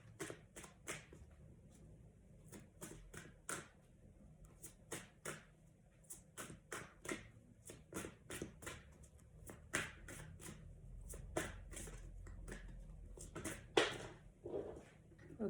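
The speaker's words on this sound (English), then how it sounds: "I'll start shuffling." Tarot cards are shuffled close up in quiet surroundings, a run of sharp riffling flutters and soft taps in irregular bursts.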